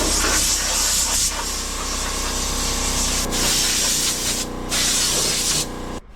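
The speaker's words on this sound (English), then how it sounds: "I'm just going to spray off the truck really quick with some pressurized air" A mini F150 truck is blown off with pressurized air in a shop. The spray is a loud, continuous hiss that shifts in intensity as the nozzle moves, with a low engine-like hum running underneath.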